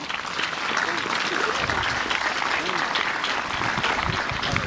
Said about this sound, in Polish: Państwa proszę o gromkie brawa i powitanie.